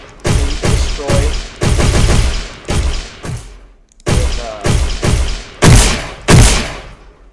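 Video game gunfire hits destructible Chaos Destruction objects in a shooting-system demo, with rapid, loud bursts of shots in close rhythmic clusters, a short break midway, then more heavy booming volleys.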